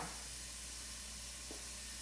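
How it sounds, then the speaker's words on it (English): A steady, quiet hiss of chicken curry sizzling in a hot pan, continuous and even throughout with no voices. "it's starting to sizzle"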